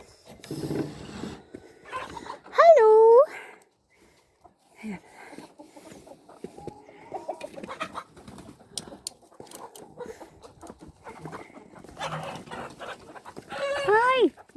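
Chickens cluck and a rooster-like call rises twice, mixed with soft bird coos and a person talking intermittently nearby.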